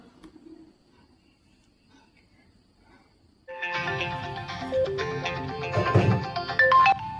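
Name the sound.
mobile phone ringtone ringing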